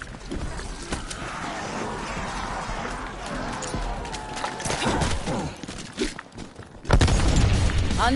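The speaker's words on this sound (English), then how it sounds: "Throwing frag grenade." Explosive booms from frag grenades thrown in a zombie video game, a dense busy mix of game noise with a loud burst near the end.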